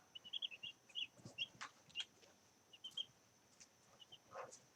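Young chicks peeping nearby: a scattered series of short, high, thin chirps in quick clusters, rising and falling in bursts with brief pauses, over a faint background hiss.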